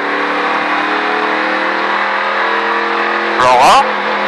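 A race car engine on a track at a Richard Petty driving experience holds a steady, loud drone, then revs up briefly near the end as throttle is applied. A voice is heard over it.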